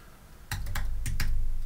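A few keystrokes on a computer keyboard, four crisp clicks arriving in two quick pairs after a short quiet start, close and clear.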